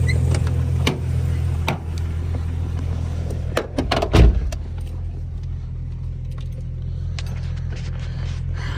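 A Jeep Cherokee XJ engine idles with a low steady rumble while a few clicks, thumps and jangles sound as someone climbs in and shifts into gear, ending in a louder clunk.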